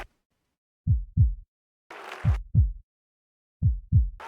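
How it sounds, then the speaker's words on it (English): Deep double-thump heartbeats, loud and close, sounding as three lub-dub pairs in a slow steady rhythm, with a brief hissing burst between the first and second pairs, all part of a music video. "the heartbeat"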